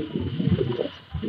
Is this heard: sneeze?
no